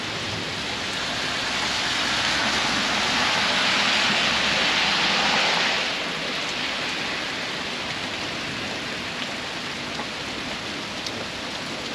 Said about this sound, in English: Here comes the rain, guys.